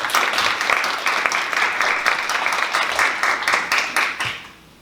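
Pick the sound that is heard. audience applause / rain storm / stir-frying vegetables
audience applause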